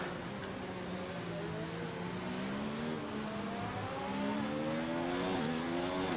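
Race cars lapping in an Abu Dhabi Grand Prix sim racing esports event whine steadily at high revs, engine pitch rising and dipping through gear changes and corners, with cars overlapping at moderate volume.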